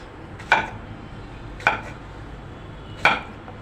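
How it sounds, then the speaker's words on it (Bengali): Three sharp knife chops through peeled bananas onto a cutting board, spaced about a second apart, each a crisp close knock with a short tail, no talking. "এখন পিস পিস করে কেটে নিচ্ছি"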